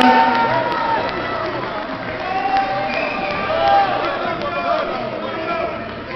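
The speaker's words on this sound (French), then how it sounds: "Quelques applaudissements pour Johan Ham de Montagne" Crowd at a boxing gala applauding and cheering for a boxer, a continuous loud wash of clapping and shouts that fills the hall, with an announcer's voice over it.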